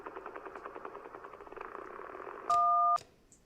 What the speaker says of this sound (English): That was a motorboat's propeller failing.